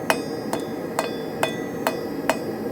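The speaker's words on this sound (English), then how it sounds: "And now I'm going to switch to a crossbeam hammer. I want to start coming down on the sides" Crossbeam hammer striking hot steel on an anvil while forging a leaf, six sharp ringing blows at a steady, even rhythm, close and clear with no talking.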